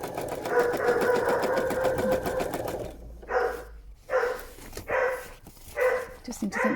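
A dog barks in repeated short bursts after the steady whir of a sewing machine stitching embroidery on a quilt block stops, the barks fairly near and loud, with a voice also talking.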